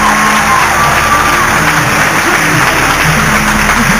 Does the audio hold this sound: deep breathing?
no